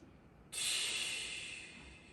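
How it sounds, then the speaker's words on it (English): A single deep breath during a spinal mobility exercise: a breathy hiss starts abruptly after a short quiet pause, stays strong and close, then slowly fades over about a second and a half. "Add 2 more deep breaths"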